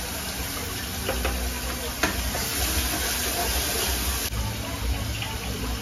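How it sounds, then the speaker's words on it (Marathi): Ginger garlic paste and ground masala paste fry in hot oil with a steady, fairly faint hiss and sputter that runs throughout, with a few light clinks. "हे तेलामध्ये वाटण टाकते आणि अद्रक लसूणची पेस्ट टाकते।"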